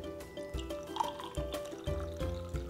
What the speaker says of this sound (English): So all you have to do is put the soil in the jar and then add water.